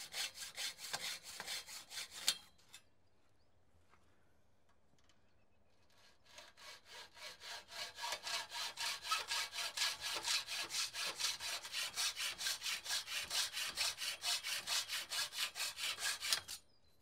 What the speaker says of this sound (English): cut the aluminium on the corners of the polytunnel at an angle, making sure to smooth off any sharp corners.